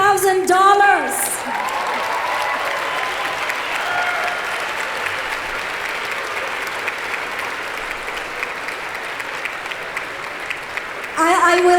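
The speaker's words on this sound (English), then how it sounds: "Let's give them a round of applause." Sustained applause from a large crowd at a scholarship ball fills the room, steady and even, with a voice speaking briefly at the start and again at the end.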